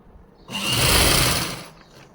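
A sewing machine stitches a belt onto a salwar in one smooth motorized burst of about a second, rising and fading, close and moderately loud with no speech.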